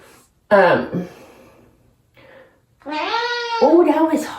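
A cat with kidney disease, being given subcutaneous fluids, meows twice, loud and close: a short cry, then a longer drawn-out wail, with a quiet pause between.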